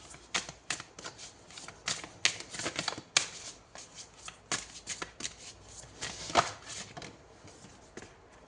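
Tarot cards are shuffled by hand up close, a quick series of crisp riffling and slapping bursts in irregular rhythm with short pauses between them, with no voices.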